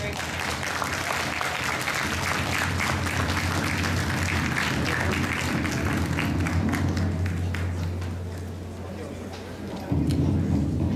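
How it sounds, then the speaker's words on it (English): Applause from a convention audience for a kimono fashion show at Anime North 2012, a sustained crowd clapping that fades near the end, with voices mixed in under it. "One more warm round of applause for the Kimono Fashion Show."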